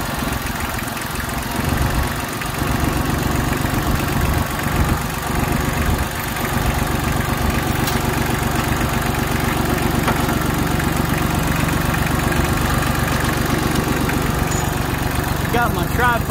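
A farm tractor's engine idles close by with a steady low rumble and rhythmic knock, loud and unbroken throughout, with some faint handling noises over it.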